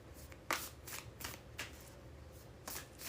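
Deck of tarot cards shuffled in several quick riffling bursts, close and fairly soft, with short pauses between each shuffle.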